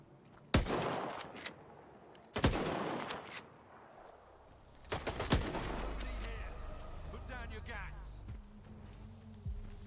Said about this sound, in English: Did he not just hear gunshots?